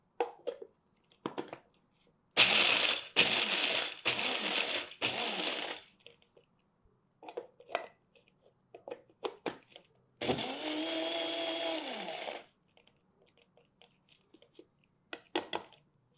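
A grinder crushes coffee beans in two loud, steady bursts, the second ending with a rising mechanical whine, separated by quiet stretches with faint handling clicks.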